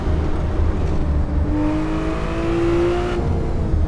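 Car engine driving up Topanga Canyon Road, a steady, loud drone with a rising whine as it pulls uphill, continuous throughout with no talk over it.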